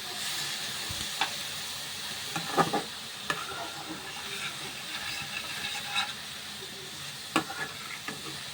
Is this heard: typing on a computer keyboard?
no